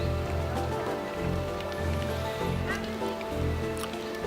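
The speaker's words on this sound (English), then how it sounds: "Eating lunch in the rain." Steady rain patters across the scene in a continuous, even wash of noise, with a low rumble underneath and occasional louder drips, outdoors in Romania.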